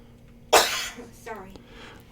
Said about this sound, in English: My wife is not warning me when she coughs.